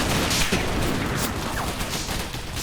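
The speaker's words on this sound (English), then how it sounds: "Go in the tunnel with the mortar, right? The mortar right here." Mortar fire in the video game Sector Wars comes as a dense, noisy burst of booming blasts and crackling gunfire that blends into a steady roar over a few seconds.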